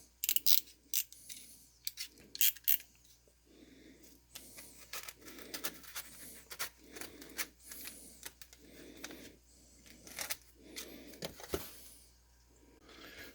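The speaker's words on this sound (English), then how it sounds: "use your knife to cut it out" A blade slices through dense Kaizen foam along a traced pattern, giving a series of short, close, muffled cutting strokes in a steady rhythm, with a few sharper clicks at the start.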